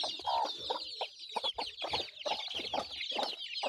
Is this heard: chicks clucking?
yes